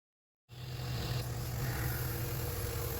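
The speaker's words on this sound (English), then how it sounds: "I will start my engine and see if she stays dry" A marine boat engine, just fitted with a fresh water flush port, starts abruptly after a moment of silence and settles straight into a steady, even idle, close and unbroken for the remaining few seconds.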